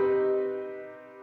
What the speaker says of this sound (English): But we've added the 7th note of the scale